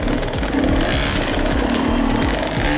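An enduro dirt bike revving hard as it crosses slippery logs on a wooded trail, a loud, close, continuous engine snarl with rhythmic throttle pulses.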